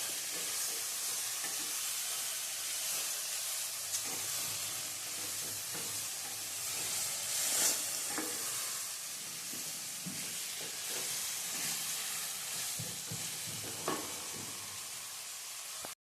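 Cauliflower sautéing in hot oil for a Gujarati cauliflower sabzi: a steady, close frying sizzle with scattered soft scrapes and clicks of stirring throughout, no voices.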